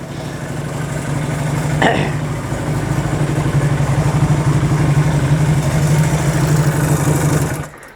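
A Honda CD175 motorcycle engine fires up and settles into a loud, close, steady idle that runs for several seconds before cutting off abruptly at the end.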